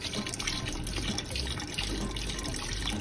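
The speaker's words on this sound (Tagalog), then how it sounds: "Lagyan nyo na buhos ko yung broth." Broth pours into a pot of Filipino arroz caldo, a steady soft splashing of liquid heard alone at low level.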